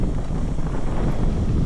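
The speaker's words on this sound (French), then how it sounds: "Les bourrasques de vent, là, ils viennent, là." Strong gusts of wind roar in a steady low rumble, buffeting the microphone outdoors, alone without talk.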